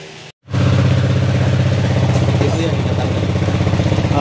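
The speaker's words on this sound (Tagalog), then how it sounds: "tahimik yung makina niya mga sir" An engine idles quietly after a home-service repair, a close, steady low rumble with an even pulsing rhythm that starts after a brief cutout.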